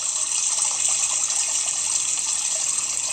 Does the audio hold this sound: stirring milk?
no